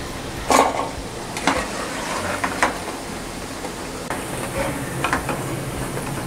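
Lentil vadas deep-frying in hot oil for vada curry, a steady close sizzle broken by a few sharp clinks and scrapes of a utensil, with no talking.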